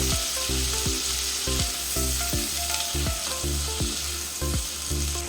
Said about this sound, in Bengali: এখন এই পেঁয়াজটাকে মিডিয়াম ফ্লেমে দু তিন মিনিট নাড়িয়ে চাড়িয়ে ভেজে নেব